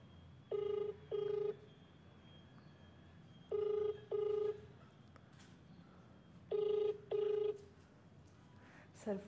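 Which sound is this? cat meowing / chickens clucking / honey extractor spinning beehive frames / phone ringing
phone ringing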